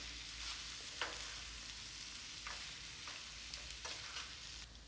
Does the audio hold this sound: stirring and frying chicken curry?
yes